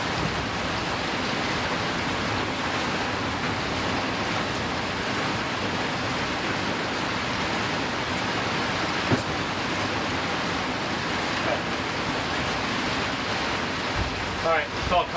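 Heavy rain pours down steadily outdoors in a dense, even hiss that lasts the whole stretch, with a few louder spatters near the end.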